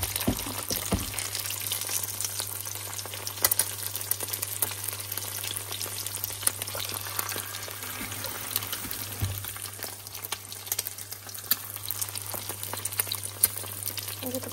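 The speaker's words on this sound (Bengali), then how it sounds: "ডিমটাকে একটু হালকা ভেজে দিলাম।" An egg lightly frying in a pan, lightly salted, sizzling steadily and close by, with a constant hiss and occasional soft crackles throughout and a faint background hum.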